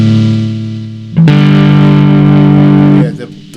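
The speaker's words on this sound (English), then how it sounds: "I found the distortion, so I'm going to check that" A guitar played through a distortion setting on an amp simulator, with one sustained buzzy chord that is cut off and quickly restruck, ringing loud and saturated for about two seconds before it stops.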